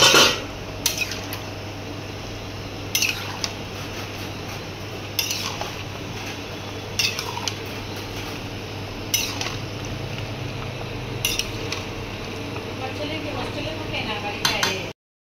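A spoon clanks against a metal cooking pot while vegetables are stirred, giving sharp intermittent metallic scrapes and knocks every couple of seconds over a low kitchen hum, with faint voices now and then.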